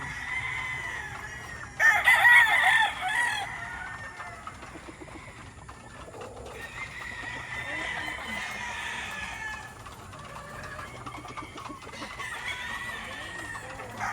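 Brood cock roosters crow in a farmyard, several fairly loud crows spaced through the stretch, with scattered clucking and other fowl sounds between them at moderate distance.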